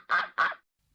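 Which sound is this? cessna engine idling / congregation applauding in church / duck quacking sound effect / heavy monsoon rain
duck quacking sound effect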